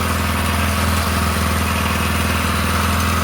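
A small four-stroke engine idles steadily up close, a continuous even putter with a low rhythmic chug and no voices.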